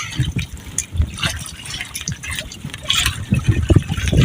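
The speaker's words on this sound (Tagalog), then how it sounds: "umulan na. Ayan mga idol, lakas ang hangin" Steady rain patters and splashes while strong gusts of wind rush and swell in waves by the sea, fairly loud and close throughout.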